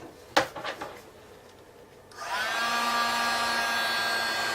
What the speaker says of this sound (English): I'm keeping the heat tool moving as I'm embossing